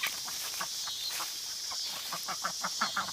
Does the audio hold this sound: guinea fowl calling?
yes